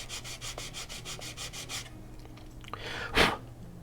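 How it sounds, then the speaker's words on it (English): Sandpaper rubs lightly over a wooden rocket fin in a quick run of about ten even back-and-forth strokes, close and fairly quiet, followed by a brief pause and one louder scrape. "just take a piece of sandpaper, wrap it around the body tube to get the shape, and then just run this over the sandpaper lightly"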